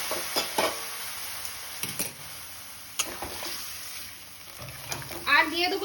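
Vegetables tossed into spice paste in a hot pan for a Bengali soybean and Malabar spinach dish, soft scraping stirs and clinks over a low sizzle, fairly quiet and close.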